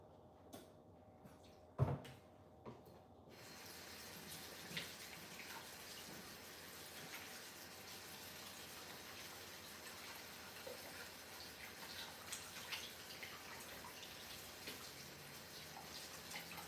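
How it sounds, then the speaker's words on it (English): A kitchen tap runs steadily while hands are washed, a soft continuous water hiss after a couple of light knocks at the start. "Let me wash my hands"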